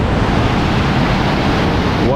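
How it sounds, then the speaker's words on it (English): Big waterfall rushing somewhere close below, a dense steady roar of fast-moving water and rapids that stays loud and unbroken throughout. "Sounds like the waterfall is directly under us"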